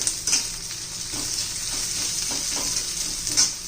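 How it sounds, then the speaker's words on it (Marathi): Onion sautés in a pan for a paratha, a steady close sizzle with faint stirring scrapes and occasional brighter crackles. "कच्चेपणा घालवायचा जरा कांद परम होईल असा होईपर्यंत आपण परतून घेणार आहोत कांदा"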